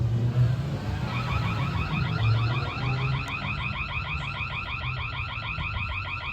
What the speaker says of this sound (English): It's got a really cool feature where you can let an alarm go.